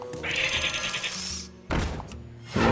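A cartoonish sheep bleat from the Explosive Sheep card in a Hearthstone-style digital card game, one short wavering cry over game music and effects, followed by thuds.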